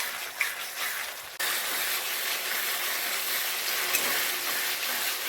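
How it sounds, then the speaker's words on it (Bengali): Masala spice paste frying in oil with a splash of water added, a sharp burst of steady, loud sizzling that jumps up partway through and then holds constant hiss, no talking. "সামান্য একটু জল দিয়ে মশলাটা কষে নেব"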